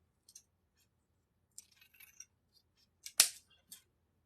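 Scissors cutting a ribbon tail for a Christmas wreath bow: a few quiet snips and rustles, then a sharp, louder snip near the end followed by one last cut, close and otherwise silent.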